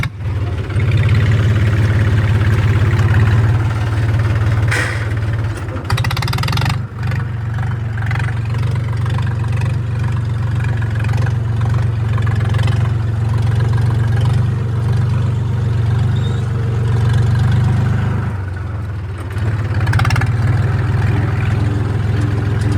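A tractor engine drones steadily and loudly while ploughing a field, a continuous low rumble with slight load changes and brief dips throughout.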